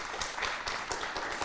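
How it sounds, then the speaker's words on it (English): An audience applauds at the close of a Washington State Attorney General primary candidate forum, with steady, fairly faint clapping running throughout. "Let's give a round of applause."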